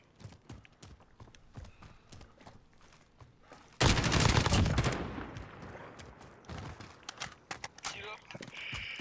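Rifle hip-fire in Call of Duty: Modern Warfare, a sudden loud burst of rapid automatic gunfire following quieter clicks and footsteps, with someone talking over the game sounds.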